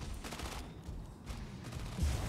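Mech gunfire in Mech Arena tournament gameplay, a steady loud stream of rapid shots with heavier bursts throughout.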